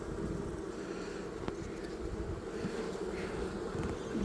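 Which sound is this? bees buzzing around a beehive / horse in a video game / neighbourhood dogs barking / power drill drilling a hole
bees buzzing around a beehive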